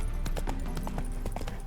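Hooves of Roach, Geralt's horse in the video game The Witcher 3, clip-clop in a steady close rhythm of distinct footfalls over a continuous ambient background.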